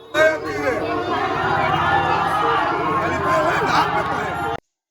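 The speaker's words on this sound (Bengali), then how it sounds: "এবার ভিড়টা আস্তে আস্তে কমছে" Dense crowd chatter fills a temple during Rakshakali puja, with many overlapping voices forming a continuous murmur and nearby talk on top, before cutting off abruptly.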